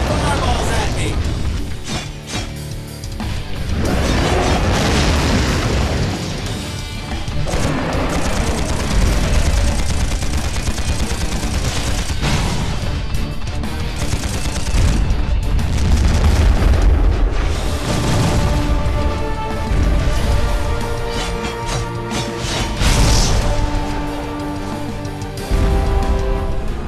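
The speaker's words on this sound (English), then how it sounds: "Now they're shooting fireballs at me!" Fireballs are launched at the player in the Nintendo Switch game Implosion: loud, continuous booming blasts and bursts piling over dense, driving game music, with no pause through the stretch.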